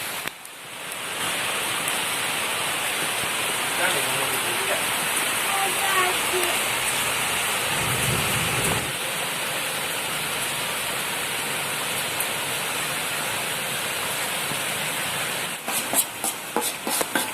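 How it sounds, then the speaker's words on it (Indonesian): Steady rain hisses throughout, loud and broadband like a downpour, with a voice briefly audible underneath. "Masih diguyur hujan"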